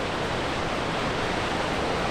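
Constant broadband roar of White River Falls, a waterfall in arid, dry country in Oregon, loud and unbroken throughout with no voices.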